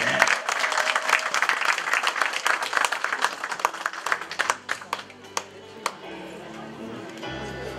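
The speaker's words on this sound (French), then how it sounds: "est-ce qu'on peut applaudir pour tous les accomplissements que maman Cécile a pu faire?" Applause at a 60th surprise birthday celebration for a mother: a dense burst of many hands clapping that gradually thins into scattered claps and fades out after several seconds, with some voices mixed in.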